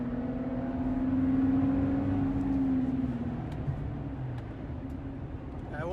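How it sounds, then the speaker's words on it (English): Chevy Colorado Z71 pickup exhaust on a road drive, a low humming drone that swells then eases over a few seconds, fairly quiet and steady. "Here's a nice road, so you can hear the exhaust."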